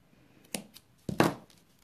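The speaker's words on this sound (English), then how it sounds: "Snip that if I can find my scissors" Scissors snipping through cardstock during card making, two crisp cuts close up, the second longer and louder than the first, in a quiet room.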